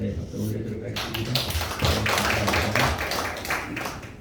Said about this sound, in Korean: 우리 김원성 회장이신 목사님에게 감사의 박수를 올려드리도록 하겠습니다